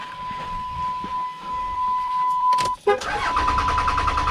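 An old truck's engine is jump-started from a portable jump box: a steady electronic tone gives way to a brief crank, then the engine catches and runs with a low, rough idle nearby.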